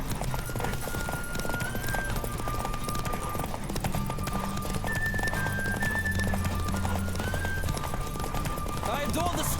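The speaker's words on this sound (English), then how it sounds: "Don't spare the horse!" A horse gallops in The Witcher 3 video game, its hoofbeats clopping rapidly and continuously under layered game music and ambience, close and steady throughout.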